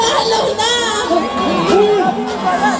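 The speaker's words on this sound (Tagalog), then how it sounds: "Sigaw ng taga Cebu." Political rally crowd in Cebu shouting and cheering in a loud, continuous roar, with excited voices and chants rising and falling throughout.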